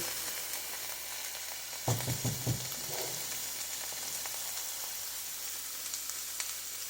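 Broccoli and onions sauté in a pan, a soft continuous sizzle broken by a short burst of stirring scrapes near the middle, with no voices.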